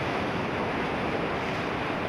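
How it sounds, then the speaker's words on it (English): Pacific surf breaking along the Costa Rica coast, a steady broadband wash of waves with wind noise, continuous and fairly close throughout. "Costa Rica has some of the longest breaking waves left in the world."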